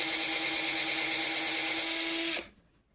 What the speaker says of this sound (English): I'm gonna drill.